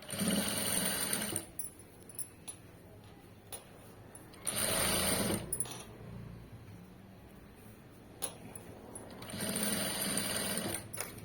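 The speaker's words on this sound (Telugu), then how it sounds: "ఇలా ఫోల్డ్ చేసుకుని స్టిచ్ చేసుకుంటూ వెళ్ళిపోండి" Piping folded along fabric is stitched on a sewing machine in short bursts: three distinct runs of quick mechanical whirring separated by quieter pauses with small clicks and handling noises.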